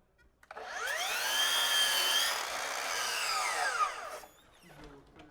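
A power saw cuts a piece of ceiling molding for a coffered ceiling and boxed cornice, a loud whining cut lasting about three seconds that starts up quickly and then spins down to quiet.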